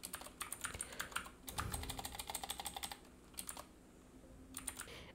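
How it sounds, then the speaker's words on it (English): Typing on a computer keyboard, close and quiet, with fast runs of light key clicks, a short pause, then a few more scattered bursts of keystrokes. "Here in this box I'm typing"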